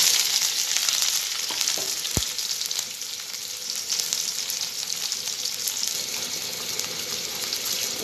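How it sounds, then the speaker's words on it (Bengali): Cumin, onion and green chilies frying in hot oil, a steady, close sizzle that continues throughout, with a sharp utensil clack near the start and light stirring. "পেঁয়াজ আর কাঁচামরিচ লাল লাল করে ভেজে নেব"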